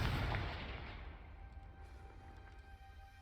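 A Confringo fire spell explodes in Hogwarts Legacy on PS5: a loud, close burst at the start that fades into a lingering rumble, with no talk over it.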